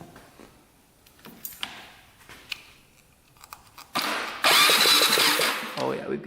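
A quad engine's ignition fires through a brand-new NGK spark plug, giving sparse, sharp ticking snaps close by, followed by a sudden burst of loud noise and a voice.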